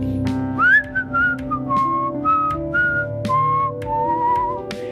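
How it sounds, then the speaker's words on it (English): Someone whistles a wandering, sliding tune up close, with a faint background hum and no talking. "he's just whistling"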